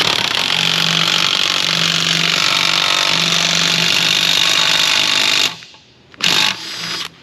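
An impact wrench rattles steadily and loudly as it tightens a nut on a special tool to pull wheel studs into a rear hub, then stops, with a short final burst.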